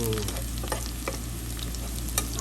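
Garlic and onion sautéing in a pan, a close, steady sizzle with scattered stirring scrapes and clicks running throughout, no voices.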